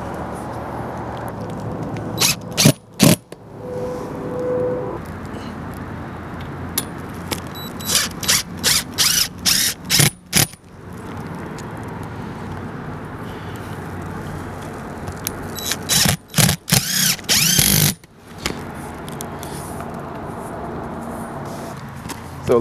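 Power drill driving screws through metal tabs of chimney wind bracing on a roof, heard as several short bursts of whirring and grinding that start and stop irregularly against steady outdoor background noise.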